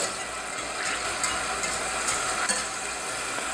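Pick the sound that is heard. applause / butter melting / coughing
butter melting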